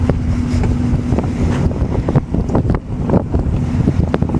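A motorboat engine in forward gear pulls away from a dinghy dock, a steady low rumble mixed with heavy wind buffeting on the microphone, close and continuous with no voices.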